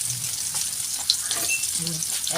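Soaked soybeans coated with chili powder, pepper and salt frying in hot oil, a steady close hiss and crackle that fills the clip, with faint stirring underneath.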